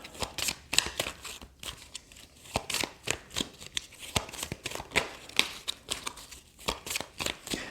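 Tarot cards being shuffled by hand, a rapid series of crisp riffling snaps and slides repeating in bursts, close and clear with no talking.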